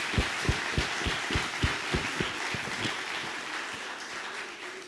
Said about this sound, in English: Let's applaud them again for this very nice session.